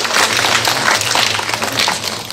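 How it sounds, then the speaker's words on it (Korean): An audience at a Korean children's theatre festival closing and awards ceremony applauds three judges, a dense, loud wash of clapping from a crowd sustained throughout with no speech over it. "세 분께도 박수 한번 보내주시고"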